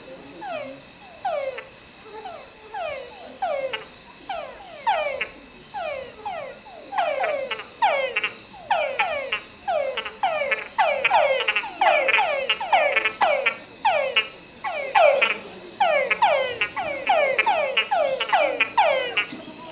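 A chorus of frogs gives mating calls continuously, whistle-like sweeps followed by rapid chuck notes, many overlapping voices against a steady insect hum.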